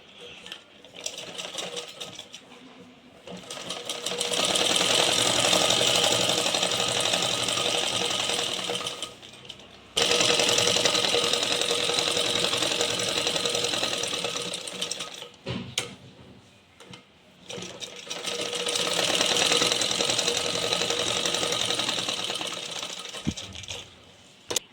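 A tailoring sewing machine stitches a blouse sleeve in three sustained bursts of fast mechanical whirring and clatter, separated by short pauses, close and fairly loud with no speech.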